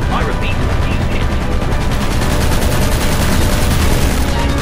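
Steady gunfire from a weapon in an aviation combat video game, a dense continuous rattle of rapid shots filling the whole stretch at loud, even level with game noise and faint voices underneath.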